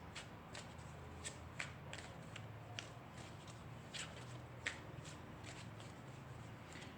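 Tarot cards are shuffled and drawn in a quiet room, with soft, scattered flicks and riffles spread through the clip, faint and close with no voices.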